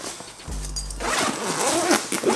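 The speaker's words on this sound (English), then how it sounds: "So, we'll start with the first zipper." A camera bag zipper is pulled open in one quick rasping stroke, close by, with a low hum underneath.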